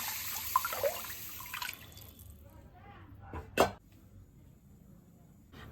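Rice rinsed in water before cooking, with sloshing, splashing and a brief pouring rush close by, alongside faint background noise.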